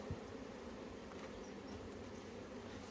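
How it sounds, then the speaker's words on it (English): Honey bees buzzing close around a beekeeper's face mask beside an open hive in late season, a steady dense insect drone filling the whole moment with no talking. "I have bees smacking against my face mask here."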